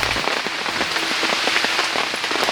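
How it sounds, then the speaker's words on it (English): Heavy rain drums on a camping tent, a dense close patter of drops with scattered sharper taps, loud and continuous with no talking. "It's raining a lot."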